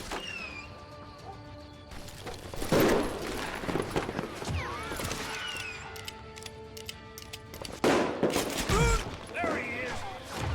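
Gunfire in the Western video game Call of Juarez: Gunslinger, with a few loud shots and crashes punching through a busy background of mechanical clicks and game sounds, and voices faintly present beneath.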